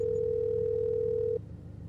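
Phone call tone in a video game, a single steady electronic beep held for over a second before cutting off abruptly, heard alone against a low background hum.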